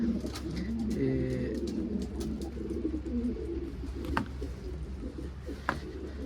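Pigeons, a recently paired couple of escaped birds, coo repeatedly in soft, throaty bursts over a steady low background hum, with a couple of sharper knocks near the end.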